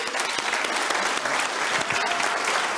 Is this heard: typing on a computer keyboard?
no